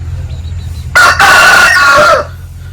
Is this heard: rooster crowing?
yes